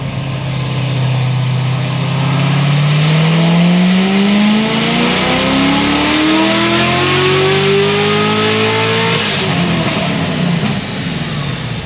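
Corvette C7 Z06 V8 running on an ethanol blend revs up loud and close, its pitch climbing steadily for several seconds before dropping back, with no talk over it.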